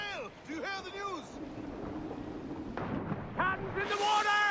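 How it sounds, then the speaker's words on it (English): Cannon fire booms out in an Assassin's Creed Black Flag naval battle, a burst of heavy blasts rolling over loud shouting crew voices and ship noise. "Cannons in the water!"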